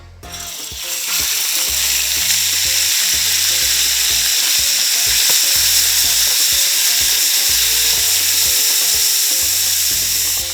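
Gator tail searing in peanut oil in a pan gives a loud, steady, close-up sizzle of frying meat that holds without a break.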